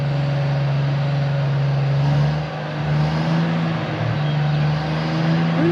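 Old car engine idling steadily in an open breezeway, a constant low rumble with a droning hum, close and continuous with slight fluctuations and no talk.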